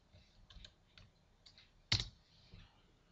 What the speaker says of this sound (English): you can simply type an atom or a group of atoms on your keyboard and press interpret text